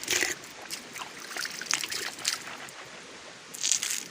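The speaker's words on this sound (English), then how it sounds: "let me just wash my hand first before I taste the water" Light water trickling and splashing in uneven bursts, close by, with a few brighter spatters standing out near the start and end.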